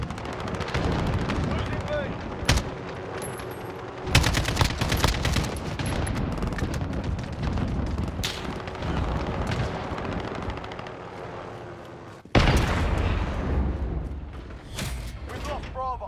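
Gunfire rattles through a modern military shooter video game, with sharp shots and bursts layered over a constant din of battle, sudden loud cracks cutting in, and a player's voice talking over it.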